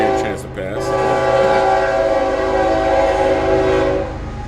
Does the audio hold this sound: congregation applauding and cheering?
no